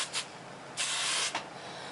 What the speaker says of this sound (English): I'm going to take my hairspray and just spray right through that